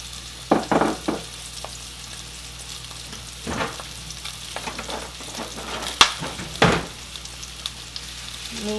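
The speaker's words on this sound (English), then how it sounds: "we're going to jump over here and saute our veg" Mushrooms and dried tomatoes sautéing in hot olive oil, a soft continuous sizzle broken by several sharp scraping stirs and clatters of a utensil in the pan, close by.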